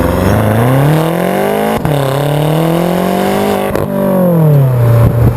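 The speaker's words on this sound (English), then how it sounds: "we're going into a corner here right off the bat, and man, it pulls hard" A 2014 BMW M6 Gran Coupe with a 4.4-liter twin-turbo V8 accelerates hard out of a corner, its engine droning loudly up through the revs with brief breaks at gear changes.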